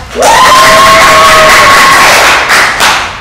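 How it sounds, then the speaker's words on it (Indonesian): A school crowd at a Valentine event bursts into loud, close cheering and whooping with a sustained high shout, fading after about three seconds. "Boleh dong tepuk tangannya."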